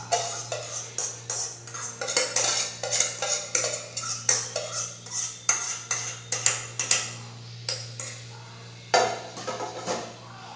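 Cooked chicken adobo being scooped from a pan into a dish: a long run of quick metallic clinks and scrapes from a utensil against cookware, close and fairly crisp, over a steady low hum, with no talking.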